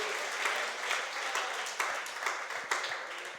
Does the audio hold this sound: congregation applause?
yes